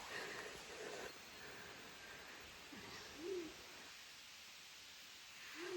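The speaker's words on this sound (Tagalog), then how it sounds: "may tumutunog na huni na ibon" A bird calls on Tarak Ridge during a mountain day hike. Two faint, short hooting notes a few seconds apart sound over a soft, steady background hiss, with no nearby talk.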